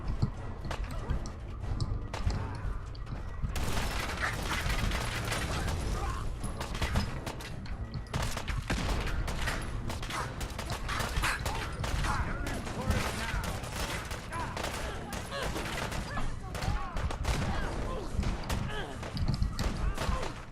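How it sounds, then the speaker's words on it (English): Steady gunfire from the companion Nick in Fallout 4, rapid overlapping shots and clattering mechanisms going almost without pause over a dense, loud battle bed, with voices mixed in. "Nick, who the fuck are you shooting at?"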